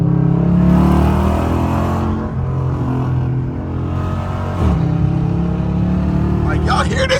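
Dodge Charger with a loud aftermarket exhaust revving in evening traffic, deep droning engine notes that swell and drop with throttle blips, close and loud, with someone talking over it.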